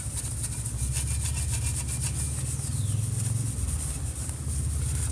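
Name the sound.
scrubbing painted metal engine tin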